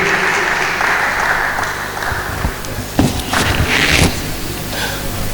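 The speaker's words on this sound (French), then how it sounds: "On peut applaudir pour lui." A church congregation applauds for a visiting pastor from Lunda Norte, steady clapping from many hands filling the room, with a few louder claps and shuffling near the end.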